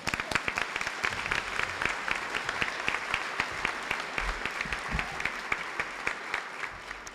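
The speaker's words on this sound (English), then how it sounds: "they deserve a round of applause" Applause for teachers at a high school graduation ceremony, a fairly distant crowd with individual sharp claps audible in an uneven, scattered rhythm throughout.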